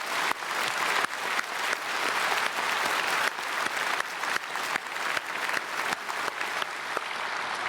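A church congregation at an early-morning service applauds its choir with loud, sustained clapping from many people, steady all the way through and dotted with sharp individual claps.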